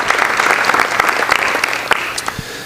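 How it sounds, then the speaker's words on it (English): Audience applause at a high school board meeting honoring student scholars, a brief, lively burst of many hands clapping, close and fairly loud, with a few sharper individual claps standing out. "Let's have a round of applause for our National African American Scholars."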